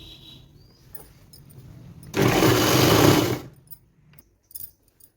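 A sewing machine top-stitches petticoat fabric in one loud, steady burst of about a second and a half, preceded and followed by quiet handling noises and a couple of brief clicks.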